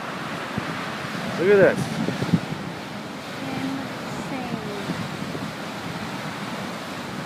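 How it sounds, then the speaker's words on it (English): Storm surge waves crash against coastal houses in Scituate during a March 2013 storm, a continuous roaring wash blended with heavy wind buffeting, while people talk excitedly over it. "the waves are up to the top. They're hitting that house."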